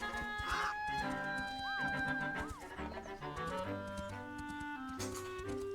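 Horse neighing in the video game Zelda: Echoes of Wisdom, a clear whinny over game music with melodic tones, fairly prominent and close.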